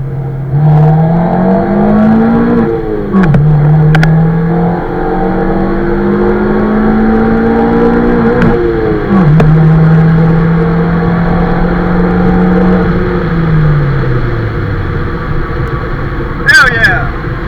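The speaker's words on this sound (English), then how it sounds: "I'm gonna go ahead and do a first gear roll and see how it feels." Honda with a naturally aspirated D16Y8 engine running on E85, heard from inside the car accelerating hard in first gear, engine note climbing through the revs in loud pulls with brief drops between them.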